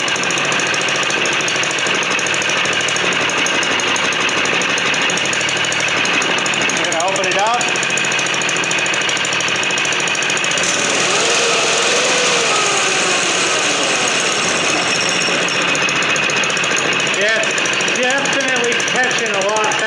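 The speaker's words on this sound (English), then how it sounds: "Engine on." A Baja Doodlebug 97cc 2.8 HP minibike engine runs close by with a loud, constant, rattling buzz that holds steady throughout, while a voice speaks under it at times.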